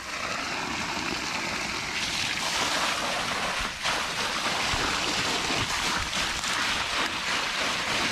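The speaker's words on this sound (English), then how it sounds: "A lot more flow coming out of that gas powered pump." Water gushes hard from the end of a pipe fed by a Honda WB20XT gas-powered water pump, a loud, steady broadband rush with no pauses and no talk throughout.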